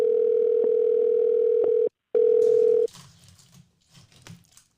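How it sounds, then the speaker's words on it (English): A FaceTime audio call rings out as a loud, steady electronic tone. The tone breaks briefly, resumes and then cuts off, leaving faint rustling and quiet background noise. "let me get them on the phone"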